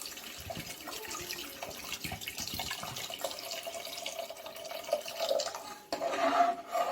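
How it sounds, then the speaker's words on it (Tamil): Water pours and splashes steadily into a cooking pot for a prawn dish, a continuous trickling stream that grows a bit louder and fuller near the end. "இந்த நேரத்தில் தண்ணி ஊற்றிக்கோங்க. தண்ணி ஊற்றி நல்லா வேக வச்சுக்கணும்."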